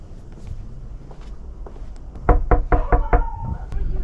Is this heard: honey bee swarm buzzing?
no